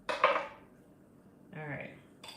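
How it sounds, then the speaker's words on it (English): A knife slices a tomato on a kitchen board for a sandwich, with a sharp clatter at the start followed by a quieter cut and a brief scrape, close and soft. "So we're gonna slice a few slices of tomato."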